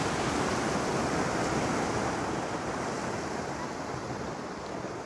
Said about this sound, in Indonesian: ombaknya lumayan besar-besar ini